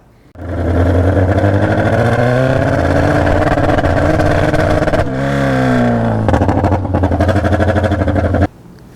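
A junkyard Honda CB750F motorcycle runs with open exhaust pipes, a loud close engine note that rises and falls through several throttle changes before cutting off abruptly near the end.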